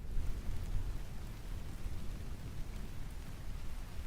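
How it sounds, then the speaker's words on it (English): Heavy rain falling in a steady, dense rush with a low rumbling undertone, fairly faint and continuous throughout with no voices. "Oh, too much rain."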